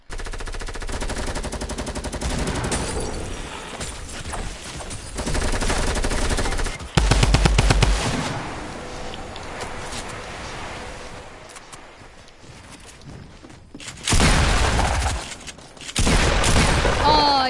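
Gunfire in a video game: near-continuous loud automatic bursts with heavier booming stretches and brief quieter gaps, game sounds filling the whole stretch.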